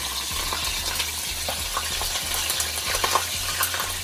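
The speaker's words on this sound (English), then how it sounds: "You want to hear that sizzling, okay?" Fish fries in a pan of hot oil for a brown stew fish, giving a continuous close sizzle with scattered sharp pops and crackles and no talking.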